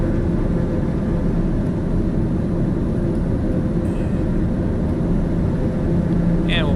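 Steady, loud drone of a TBM930 single-engine turboprop climbing out after takeoff in Microsoft Flight Simulator, a constant engine roar with no break.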